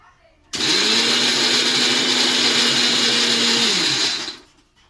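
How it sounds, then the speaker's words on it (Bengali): Mixer grinder blending chopped garlic and tomato into a paste, a loud steady whirring motor running for about four seconds with a droning hum, then spinning down and fading out. "রসুন কুচি টমেটো কুচি দিয়ে একটু মিক্সার মেশিনে দেওয়া হবে"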